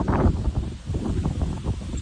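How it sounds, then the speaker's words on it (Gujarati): Gusting wind sweeps over a rooftop in Botad village just before the first rain, a brief rushing buffet close on the microphone, with faint rustling and no talk. "કેવો પવન આવે"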